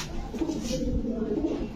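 Soft, low cooing of adult pigeons murmurs continuously, close by, with a faint voice in the background.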